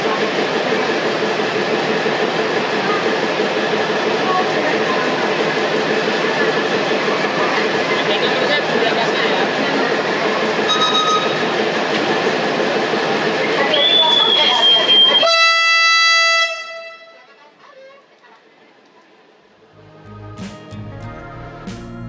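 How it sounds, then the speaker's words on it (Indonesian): A 100-year-old tourist train departs Ambarawa station, heard as a loud, steady rail rumble with squeals for about fifteen seconds before it cuts away to quieter sound, and a voice speaks over it. "akhirnya kereta wisata diberangkatkan dari stasiun Ambarawa menuju ke stasiun Tuntang"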